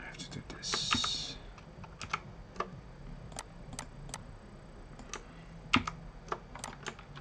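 Rapid typing on a computer keyboard, with sharp irregular key clicks scattered over a steady background hum, close and fairly quiet, with a faint voice in the background.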